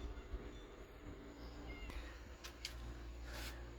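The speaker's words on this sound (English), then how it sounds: "That's the neighbor's cat." A cat meows faintly a few times in the distance over a steady outdoor rumble of a tracked Bobcat skid loader working on a driveway.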